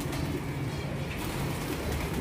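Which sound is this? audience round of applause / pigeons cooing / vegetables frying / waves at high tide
pigeons cooing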